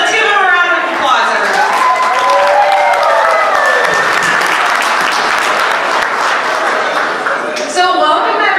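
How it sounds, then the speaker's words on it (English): Guests at a wedding reception in Burgettstown, Pennsylvania applaud the best man, a loud sustained wash of clapping with cheers and a voice talking over part of it. "Let's give him a round of applause"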